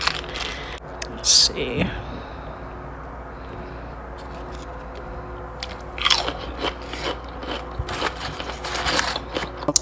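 Crispy Popeyes fried pickles, reheated in an oven and dipped in blackened ranch, are bitten with a sharp close crunch, followed by quieter chewing crunches, with a brief spoken phrase at the start.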